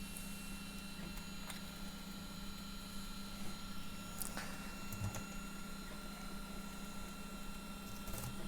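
A 3D printer runs mid-print with a steady, quiet mechanical hum and tonal whine, broken by a few faint clicks and ticks, and no voices.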